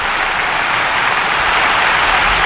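Dense, sustained applause from a huge crowd of tens of thousands standing to greet Deng Xiaoping, a broad even roar of clapping at steady loudness with no voices standing out.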